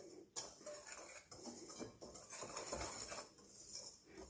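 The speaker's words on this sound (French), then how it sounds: "Je viens ajouter le sucre et je mélange le tout." Sugar being mixed into pancake flour and baking powder in a bowl for quick fluffy pancakes: soft scraping and light clinks of a utensil against the bowl, steady and close, with no talk.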